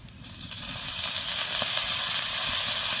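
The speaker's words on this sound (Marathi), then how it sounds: "त्याच्यात थोडंसं तेल टाकायचं भाजताना" Green chillies roast in a little oil in a pan, giving a steady, loud hiss that swells after a soft start and stays constant throughout.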